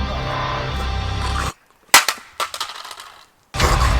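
Gunshots in The Walking Dead video game, a few loud sharp cracks fired in a quick irregular burst, with silent gaps before and after and loud game sound or voices on either side.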